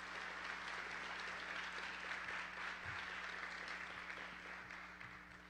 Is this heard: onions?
no